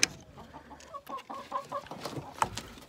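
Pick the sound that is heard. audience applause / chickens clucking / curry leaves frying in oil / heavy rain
chickens clucking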